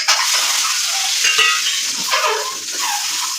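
Egg sautés with chilli powder and turmeric masala in a pan, giving a bright, loud sizzle. Several spatula scrapes and stirs cut through it, and nobody talks.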